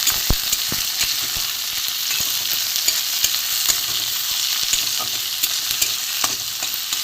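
Onion, tomato and green chilli fry in a pan for a fish filling, a steady loud sizzle with repeated scraping stirs throughout, no talk.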